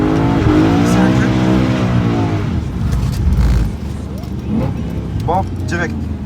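BMW M3 E93 engine revving loudly while drifting, with rising and falling engine tones and brief tire squeals, up close, under steady in-car talk.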